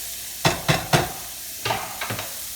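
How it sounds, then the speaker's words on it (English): Onions frying in a hot pan beside steaks, with several sharp scraping stirs of a utensil over a faint sizzle, three quick strokes, a pause, then three more. "So I'm adding a little bit more onions here."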